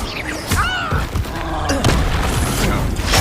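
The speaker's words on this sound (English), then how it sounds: "Explosion!" A spell explosion in the video game Hogwarts Legacy, a sharp booming burst layered with crackling impacts and shimmering effects, close and loud, amid other game sounds and a character's shouted voice.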